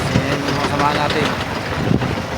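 A bulldozer engine with its motor under overhaul at a road construction site runs in a steady low rumble, loud and continuous throughout, with someone talking over it.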